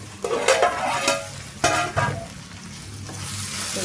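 Vegetables for fried rice sizzle in a hot pan while being stirred, with a steady frying hiss and a few scraping, clattering strokes up close.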